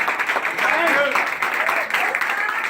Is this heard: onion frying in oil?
no